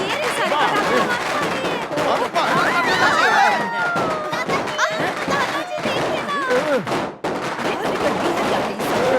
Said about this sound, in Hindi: अरे ये पटाखा का आवाज कैसा है? कौन फोड़ रहा है?